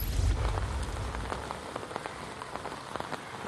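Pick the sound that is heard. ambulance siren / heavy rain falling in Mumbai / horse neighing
heavy rain falling in Mumbai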